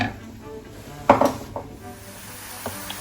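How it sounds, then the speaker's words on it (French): Onions and shallots are stirred in a frying pan over heat, with a low continuous sizzle and a few clinking scrapes of a utensil against the pan, the loudest about midway. "On remue un petit peu nos oignons et nos échalotes."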